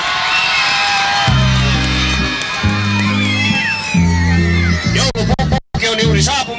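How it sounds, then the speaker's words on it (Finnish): A crowd of children at a 1984 Christmas season opening event cheers, whoops and shouts loudly over pounding music, the noise staying dense and continuous with a brief dropout near the end. "Kaikki lapset huutaa nyt. Oikein lujaa."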